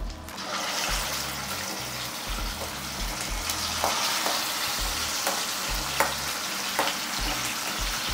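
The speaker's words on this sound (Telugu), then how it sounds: "చికెన్ పీసులు వేసుకుంటున్నాను" Large chicken pieces, including leg pieces, fry in a pan for chicken fry. A dense, loud sizzle continues unbroken, with occasional crackles and stirring noises, over a steady low background hum.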